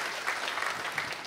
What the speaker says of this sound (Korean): 그 여신도 위해서 여러분 박수 한번 해주셔요.